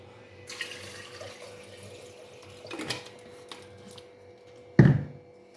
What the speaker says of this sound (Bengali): এর মধ্যে আমি দিয়ে দেব পরিমাণ মতো জল